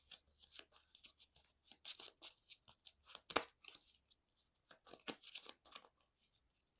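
Playing cards for the Marvel Champions card game being shuffled up close: a run of dry, papery riffling and crackling bursts in quick irregular clusters, with brief pauses between them and no talking.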